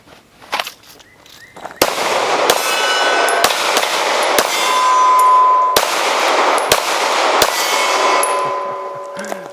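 Springfield XDS 9mm compact pistol firing, a string of loud, sharp cracks with ringing metallic echoes, spaced roughly a second apart outdoors.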